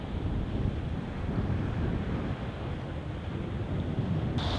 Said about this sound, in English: The water is mighty and ferocious, beating against the shoreline.